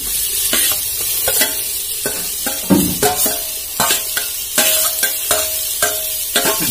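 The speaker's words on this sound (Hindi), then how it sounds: "अब इसमें जो है टमाटर धनिया पत्ता डालते हैं।" Tomato and coriander leaves frying in spiced masala for khichdi, cooked in a lodge room: a steady close sizzle broken by repeated scraping stirs and clinks of a spoon against the pan.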